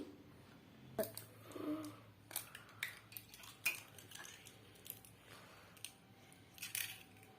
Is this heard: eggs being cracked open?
yes